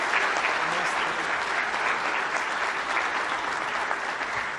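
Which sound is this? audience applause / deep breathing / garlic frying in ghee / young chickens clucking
audience applause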